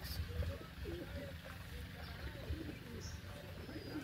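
Pigeons coo softly and repeatedly in the background while being fed, low murmuring calls under a steady outdoor hum, with a few faint chirps.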